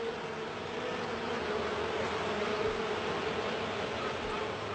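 Honeybees in a colony drone in a dense, steady buzz that fills the whole stretch evenly, close and unbroken, with no voices.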